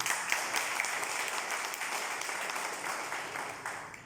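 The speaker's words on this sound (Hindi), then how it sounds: "आपकी तरफ से भी जोरदार तालियां होंगी।" Steady applause from a large crowd at a school parent-teacher meeting, a dense even patter of many hands clapping that holds for several seconds before easing slightly.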